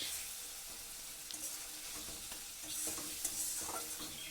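Spice masala cooked down with softened tomato hisses quietly in a pan, with scraping and stirring strokes throughout, soft and close, picking up a little in the second half.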